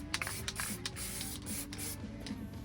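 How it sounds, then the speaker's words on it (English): Short hissing bursts of black spray paint applied lightly to an engine rocker cover on a Vauxhall Nova, several quick close sprays in a loose rhythm over a low background hum. "with the first coat of black paint, I was making sure to go over the rocker cover lightly"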